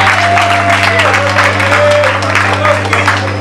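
A large crowd applauds and cheers continuously at an outdoor community celebration, a steady loud wash of clapping and voices with a low constant hum underneath.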